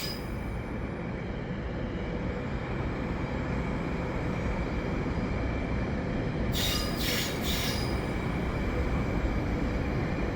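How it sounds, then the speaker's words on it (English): A CRRC-built EXO commuter train departing Lucien L'Allier terminal in Montreal for Saint-Jérôme rolls steadily with a continuous rumbling roar, and high metallic wheel squeals ring out a few times partway through. "And the CRRC train is leaving."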